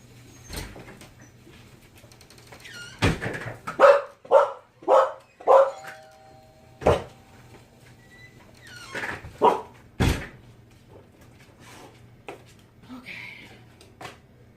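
A nearby dog lets out a run of barks in a steady rhythm, then a few more scattered barks amid knocks and household clatter.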